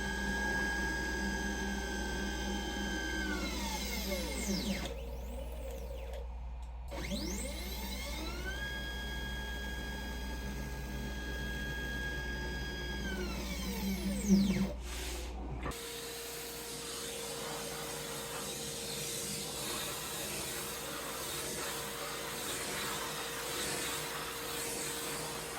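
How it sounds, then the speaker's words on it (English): A vacuum clears debris from the engraved numbers on a Tuck game board, a steady whooshing roar with a faint whine that follows the whirring and tones of a machine spindle. "The reason we vacuum the numbers out is because there's a little debris on the inside."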